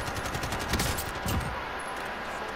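AK rifle fire in Warzone, rapid automatic bursts crackling loud and close in quick repeated volleys over steady background game noise, with no talking.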